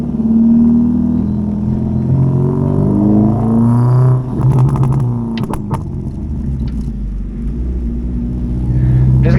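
A Ford Figo with a new muffler drives off, its engine rumbling loud and close as it revs through gears, with a brief dip and some rattles midway and no talking.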